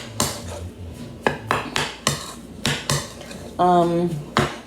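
Potatoes are mixed with olive oil in a dish, with a series of sharp clanks and scrapes of a utensil against the dish, repeated at irregular intervals, and a brief voice near the end.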